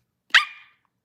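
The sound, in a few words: barking vocal tic of a person with Tourette's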